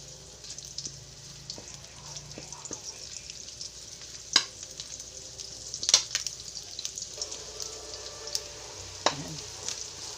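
Garlic sizzles in hot rendered fat in a pan while vegetable pakbet is being cooked. A soft, steady frying hiss runs throughout, with occasional sharper pops and spatters, and no one speaks.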